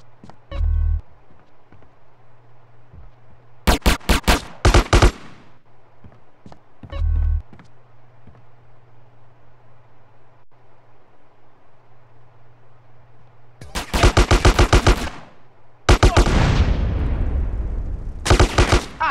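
Gunfire in GTA San Andreas on mobile: a few single shots early on, then loud rapid bursts of automatic fire with quieter gaps between them and a steady game hum underneath.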